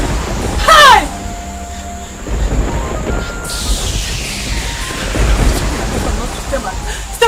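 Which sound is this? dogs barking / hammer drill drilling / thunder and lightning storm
thunder and lightning storm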